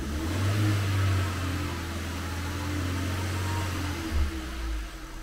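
A car engine hums steadily, then revs up to 2,000–3,000 rpm during a battery test and holds at the raised pitch before dropping back, close and continuous.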